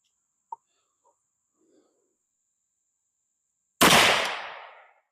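A single sharp 45-70 Government rifle shot from a CVA Scout V2 cracks loudly after near silence, followed by a long decaying echo lasting over a second; faint small clicks precede it.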